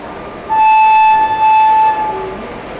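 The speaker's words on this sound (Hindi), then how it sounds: "यही वो WAG-5 है जिन्होंने हमारी ट्रेन को आज रेस्क्यू किया है" An Indian Railways WAG-5 locomotive sounds a loud, steady horn for about a second and a half over the rumble of a passing train.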